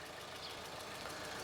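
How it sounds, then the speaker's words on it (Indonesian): Steady, smooth engine idle of a 2017 Suzuki SX4 S-Cross, low and even with no rough knocks, heard up close and running alone without voices. "Dan ini suara mesinnya"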